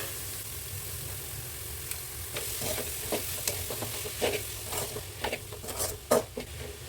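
Cooked, powdered blood is stirred in a pan for mutton curry, giving a soft ongoing sizzle broken by scraping strokes and clicks that grow more frequent, quiet and close with no voices.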